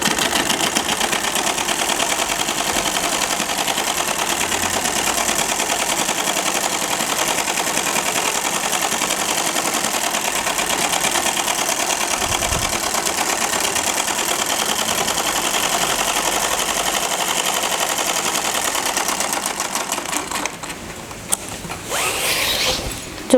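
A sewing machine runs in one long steady burst, stitching a straight seam down the side of an Aligarh-style cotton pyjama, loud and close, then slows and stops near the end with a few clicks.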